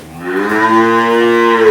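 A cow about nine months pregnant lets out one long, loud, close moo that rises and holds steady, with no talking.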